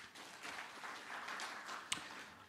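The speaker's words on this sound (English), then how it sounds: "Just clap for yourself." Faint, distant clapping from an audience at a university innovation and exhibition week, a soft steady patter lasting a couple of seconds with one sharper clap near the end.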